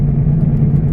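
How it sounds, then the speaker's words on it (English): Worn front hub bearings on a 2009 Chevy Aveo give off a loud, steady low roar with a constant drone, heard alone from inside the moving car. "That is the roar of two front hub bearings"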